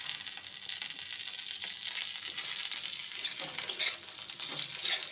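Bitter gourd and potato pieces fry in a pan while being stirred, a steady close sizzle with scraping stir strokes throughout and no talking.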